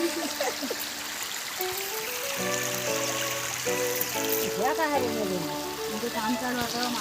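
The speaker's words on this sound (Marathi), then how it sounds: "पाणी आहे चला ही नदी" A small river flows in a continuous trickle near its bank, with a voice talking over the water and chirping birds or whistles weaving through the whole stretch.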